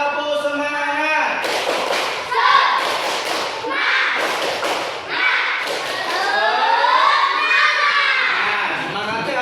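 A class of children chants and claps in unison, the 'tepuk semangat' rally chant, with a rhythm of sharp clap bursts between loud group voices in a primary-school classroom.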